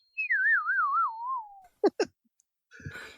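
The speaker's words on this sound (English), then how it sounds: "Do the slide whistle." A slide whistle glides downward in a wobbly, warbling pitch for about a second and a half, followed by a few short clicks and knocks.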